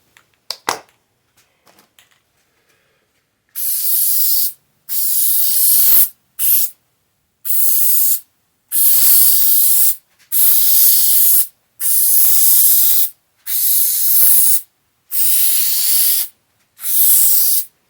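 Spray coating hissing onto car door parts while door liners are installed, nine or ten loud bursts of aerosol hiss about a second each with short gaps, after a few faint clicks at the start.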